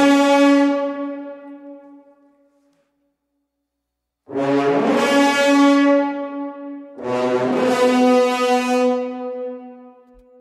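Low brass whip articulation from the Audio Imperia Talos orchestral library, heard as three loud, sharp-attacked blasts. The first one decays into silence, and the next two follow closely with a rough, buzzy bite.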